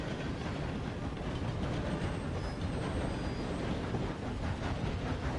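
A steam locomotive rolls along in Red Dead Redemption 2, a dense, continuous rumble of wheels and carriages with faint clatter running evenly throughout, fairly close and alone with no voices.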